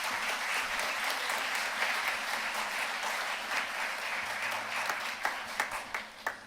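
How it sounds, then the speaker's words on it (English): Audience at a high school spring band concert gives a sustained round of applause, dense clapping that thins toward the end into a few scattered, distinct claps. "So give them a round of applause."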